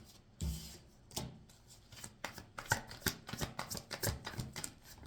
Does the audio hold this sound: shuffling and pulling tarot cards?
yes